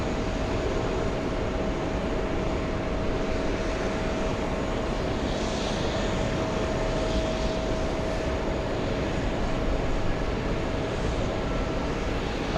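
An Air Europa airliner passes at a distance, giving a steady, broad jet roar that holds evenly throughout with no talk.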